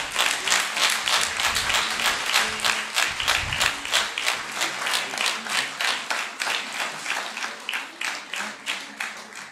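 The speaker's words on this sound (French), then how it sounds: "On peut les applaudir très fort alors." Applause for student performers at a music school concert in Le May-sur-Èvre: loud, close clapping that settles into a steady rhythmic beat in unison, with a few voices faintly underneath at first.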